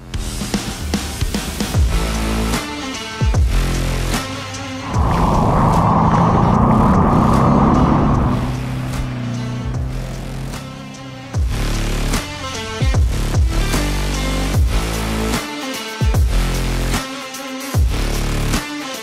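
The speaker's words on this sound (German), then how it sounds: "Und das ist der Testwagen für den Oldtimer Reifentest, ein Porsche 356." A classic Porsche 356, a vintage tire-test car, runs with a loud engine through a rhythmic series of revs and shifts, with a sustained roaring surge in the middle, and no talking.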